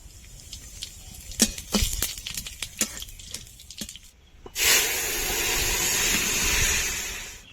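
A few sharp clicks and pops, then a sudden loud, steady sizzle as whole cumin seeds and dried red chillies hit hot oil in a wok, close and continuous.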